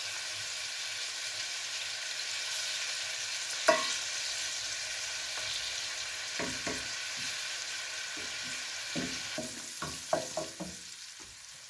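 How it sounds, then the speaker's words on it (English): Spices fry in a pan at home, a quiet steady sizzle with occasional sharper crackles and stirring knocks that grow more frequent toward the end, no voices. "Add my spices, not making them into a paste, can't be bothered. Just going to fry them off."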